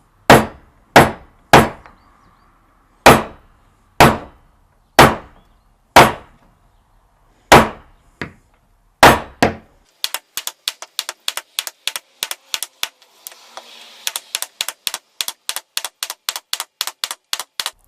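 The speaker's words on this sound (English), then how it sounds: "Just use a large screw, hammer it away." Sharp metal-on-wood taps as a hammer drives a large screw to dent wood, a dozen spaced strikes followed by a rapid run of quicker, lighter knocks, close and loud with nothing else around them.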